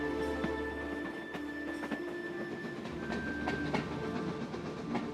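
Goods wagons roll on rails at a train depot, giving a steady rhythmic clickety-clack of wheels over joints with faint metallic squeals, heard at moderate distance and without speech.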